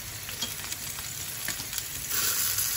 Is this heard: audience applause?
no